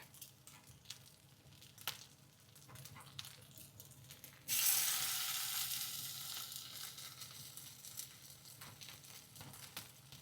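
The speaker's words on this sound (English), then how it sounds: "Now making into small patties and shallow frying it." Vegetable patties bound with almond flour drop into a shallow pan of hot oil, and a sudden loud sizzle bursts out and slowly fades, with small clicks and crackles from the kitchen before and after.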